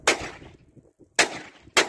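A Rohm .38 revolver fires three sharp, close shots with short pauses between them, each crack ending quickly.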